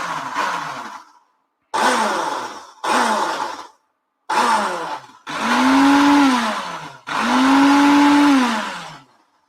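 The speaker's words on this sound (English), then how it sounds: "let's just blend this" Blender pureeing butternut squash for risotto in several loud bursts, short pulses first and then two longer whirring runs whose motor pitch drops and rises under load, with silent gaps between.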